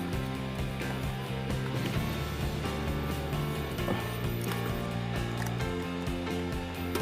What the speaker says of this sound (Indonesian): Di sini kita lepaskan terlebih dahulu baut pada pelindung rumah dinamo kipas angin Miyako ini.